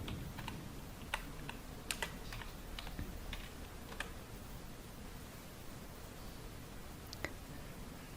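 Light, scattered tapping on a computer keyboard as a group name is typed, a few soft clicks over a faint steady hiss, quiet and close with no talking.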